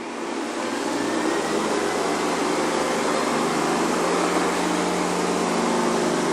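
Hoover Convertible upright vacuum cleaner running on carpet, a loud constant motor roar with a broad hiss that starts up and holds steady throughout, alone without talk.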